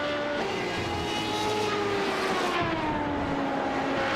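A sim race car in a video game at Silverstone screams at high revs after a downshift from second to first, a continuous loud engine whine with shifting pitch and other cars droning around it.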